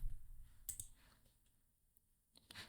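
A computer mouse clicks on a website, a few quiet, sharp clicks spread across a near-silent stretch with no talk.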